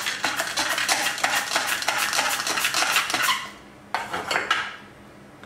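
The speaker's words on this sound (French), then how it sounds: "maintenant on va les couper à la mandoline" Potatoes sliced thin on a mandoline, a fast run of rhythmic scraping strokes that stops briefly and then resumes for a few more cuts, close and clear with no talking.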